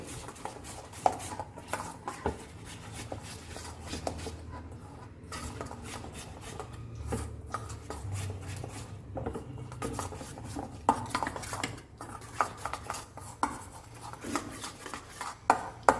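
Tandoori chicken marinade being mixed together in a bowl, a steady run of wet squelching and rubbing with frequent clinks of utensils against the dish, close and fairly quiet, no speech.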